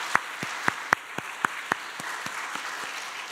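In a church, a congregation gives thankful applause heard as a short run of distinct, sharp claps in a steady beat, strong at first and then softening, against a quiet room.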